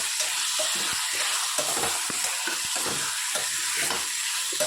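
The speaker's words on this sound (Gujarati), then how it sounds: "સરસ મિક્સ કરી લઈએ." A vegetable mixture fries in a pan, giving a steady close sizzle and hiss under repeated scraping stirs, with no talking.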